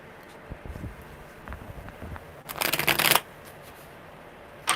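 Tarot cards riffled in one brisk shuffle of about half a second, close and crisp, preceded by soft handling taps and rustles in a quiet room.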